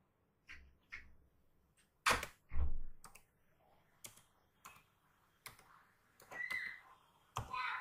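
Computer keyboard keys tapped in short irregular bursts while searching in Windows 10, with sharp isolated clicks and quiet gaps between them, close and fairly soft.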